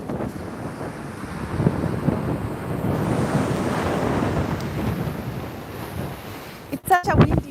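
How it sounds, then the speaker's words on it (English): Strong wind buffets the microphone at Laguna Beach, a steady roaring rumble with surf mixed in, ending in a few sharp gusty knocks near the close. "Today is very windy."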